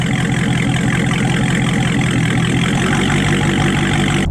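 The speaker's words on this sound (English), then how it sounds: "listening to that beautiful idle" A Dodge Charger Scat Pack's naturally aspirated 6.4 liter V8 idles at a steady, loud, deep rumble with a constant throb that never changes, heard close up with no voices.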